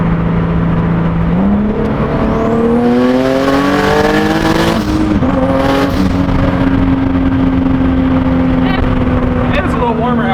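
A 600 WHP Nissan 370Z Nismo accelerates hard at high boost, its engine note climbing steadily in pitch, loud and close, with a brief dip mid-run before it pulls again.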